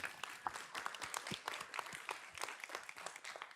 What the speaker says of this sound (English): Let's give them a round of applause quick.